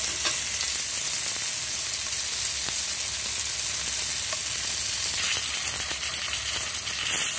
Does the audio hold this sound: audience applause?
no